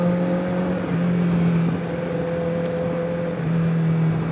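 Honda CBR1000RR Fireblade motorcycle engine droning steadily while riding in a low gear, a loud close hum that shifts pitch slightly as speed changes, with wind noise and no talk.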